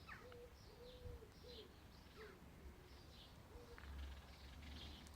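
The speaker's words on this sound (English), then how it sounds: "I think it's a pigeon." Soft cooing from a pigeon or dove outdoors in a quiet natural spot, a few low rounded coos repeating at a relaxed pace over a steady background hum, with faint higher chirps from other birds.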